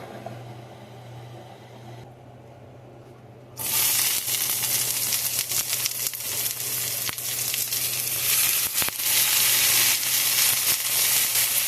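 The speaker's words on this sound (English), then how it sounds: "we need to get our skillet hot, and then we're gonna fry our green peppers and our onions, and we're gonna fry our hamburger" Hamburger, green peppers and onions go into a hot skillet: a quiet hum gives way to a sudden loud sizzle that keeps up a bright, steady frying hiss, with occasional stirring scrapes and no talking.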